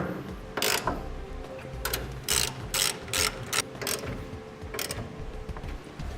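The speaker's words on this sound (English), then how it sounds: "Now we'll get the 3 carriage bolts tightened down appropriately." Ratchet clicks in short bursts while three carriage bolts are tightened down on a gooseneck hitch being installed in a 2010 Chevrolet Silverado, the pawl rattling close and loud with brief pauses between pulls.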